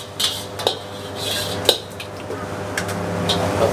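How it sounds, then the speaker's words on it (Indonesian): Fried rice (nasi goreng) is cooked in a pan, with a metal utensil scraping and clinking against it in irregular bursts over a low steady stove hum. "sekarang kita bakal bikin nasi gorengnya"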